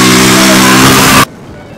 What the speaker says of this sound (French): ils sont les maîtres du vrombissement à cause du bruit de leur moteur et le coup de klaxon strident.